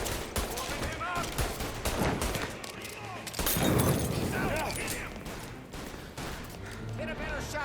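Rapid gunfire in the video game Mafia: Definitive Edition, dense bursts of automatic shots and loud cracks with shattering debris, close and continuous, with in-game shouting mixed in.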